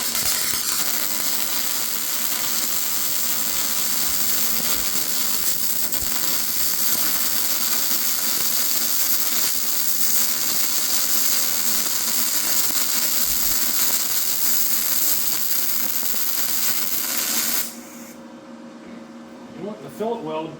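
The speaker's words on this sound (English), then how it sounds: "Now let's try to finish this fillet weld." YesWelder DP200 multi-process welder running a fillet weld, a steady loud crackling hiss with continuous buzzing that cuts off near the end, leaving quieter sounds behind.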